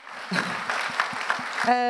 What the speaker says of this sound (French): là pour le coup vous pouvez vraiment les applaudir